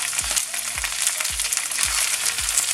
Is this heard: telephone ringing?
no